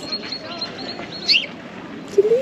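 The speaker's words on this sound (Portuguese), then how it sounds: "Um passarinho lindo ali rodeando a gente." A small bird chirps nearby outdoors in Helsinki among budding trees, a few brief high calls rising over a low background hum.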